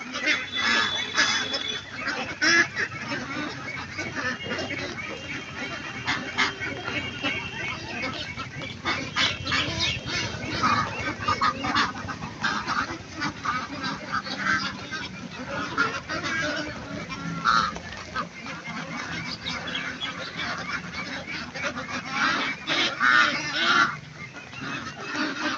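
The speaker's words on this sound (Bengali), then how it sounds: "ওই পাশে যে হাঁসগুলো দেখতেছেন গাইস, এগুলা কিন্তু সব বাচ্চা হাঁস।" About 1300 ducklings packed together at a large duck farm keep up a continuous, busy chorus of overlapping honks and quacks at moderate distance, with no pause throughout.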